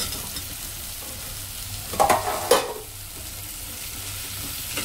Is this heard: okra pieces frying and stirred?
yes